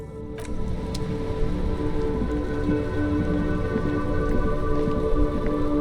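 Steady rain in the video game Disco Elysium patters and hisses over a low rumbling background, with a few brief sharper taps near the start.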